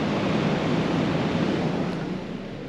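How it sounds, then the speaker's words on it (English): Monsoon-driven surf pounds a west-coast beach on Cape York during the wet season, a loud continuous roar of breaking waves and wash with wind buffeting the microphone throughout. "they don't normally get waves like this on the west coast"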